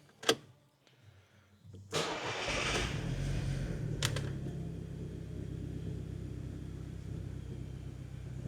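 A VW MK5 Golf GTI Edition 30 with 147,000 miles and minor running issues cranks briefly and fires up, settling into a steady, low rumbling idle after a couple of sharp clicks.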